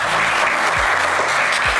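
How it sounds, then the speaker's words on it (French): A studio audience on a French TV quiz game show claps loudly and steadily in thick, continuous applause, with low thumps beneath the clapping. "Allez, on vous applaudit très fort."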